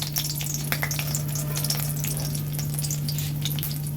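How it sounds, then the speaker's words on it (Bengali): Black cumin seeds and a green chili crackle and spit in hot oil left over from frying lentil fritters, a steady close sizzle with sharp little pops scattered throughout, no voices. "ওই তেলেই কালো জিরে আর একটা কাঁচা লঙ্কা ফাটিয়ে ফোড়নে দিয়ে দিলাম।"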